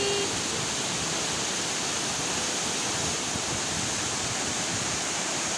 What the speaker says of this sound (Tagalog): nakita nyo na ang falls ng Hinulugan Taktak